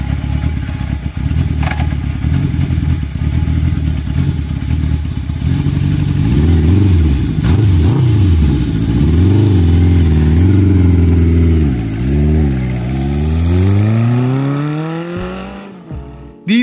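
A Honda CB750 four-cylinder motorcycle engine roars loudly and alone, holding a steady growl before sweeping through several rising and falling revs, then dropping off at the end.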